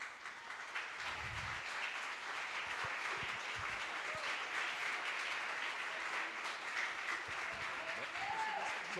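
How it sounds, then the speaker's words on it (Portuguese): A church congregation applauds a visiting pastor, steady sustained clapping from many people filling the hall at moderate distance, with faint voices mixed in. "Pastor Raimundo, ele deveria ser aplaudido de pé por essa igreja."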